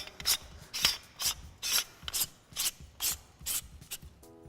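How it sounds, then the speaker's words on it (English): A castle nut is threaded onto the Mitchell base of a Maxicrane H700 movie jib, giving about nine evenly spaced gritty metallic rasping turns, close and distinct, with short pauses between strokes. "thread on your castle nut"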